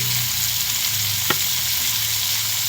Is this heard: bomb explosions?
no